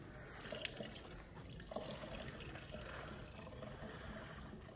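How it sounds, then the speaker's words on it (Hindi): Water gushes strongly and continuously from a newly installed tap, a steady broad rushing flow with a few faint drips and knocks on top. "पानी भी आ रहा है जी ज़बरदस्त पानी आ रहा है"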